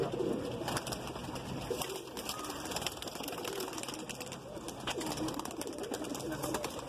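Madrasi breed pigeons cooing in a dense, continuous wash of bird calls, close and steady throughout with no speech.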